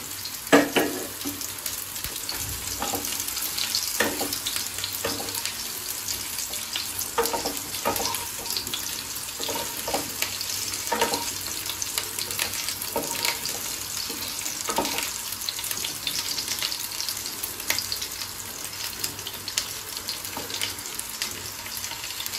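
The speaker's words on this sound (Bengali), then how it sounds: "এখন আমি দিয়ে দিচ্ছি ফুলকপিগুলো। ফুলকপিটা একটু হালকা ভেজে নেব।" Cauliflower pieces lightly frying in oil with cracked whole garam masala, giving a steady close sizzle with scattered crackles and pops throughout, no voices.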